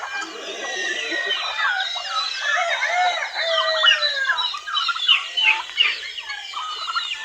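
Young Plymouth Rock chickens calling and clucking on a farm, a busy overlapping chorus of chirps and clucks that keeps on throughout, fairly close and loud.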